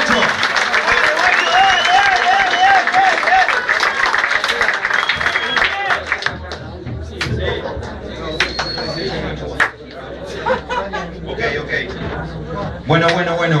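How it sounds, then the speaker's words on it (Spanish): A crowd at a rap battle claps and cheers in a dense burst that fades after a few seconds, with someone shouting over it. Talk and scattered noise continue afterward. "Aplauso, guacho"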